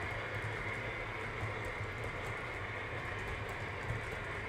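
Model trains running on a layout in an air-conditioned garage, a continuous steady rumble and whir with faint rhythmic clicking, unbroken throughout.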